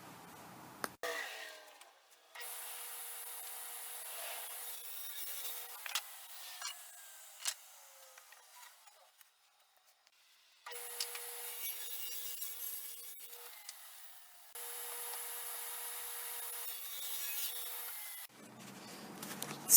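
A wooden piece for a fish tank stand is cut with a saw in several long stretches of steady, rasping strokes, separated by pauses with brief knocks and handling noises; the sawing is close and clear, with no talking.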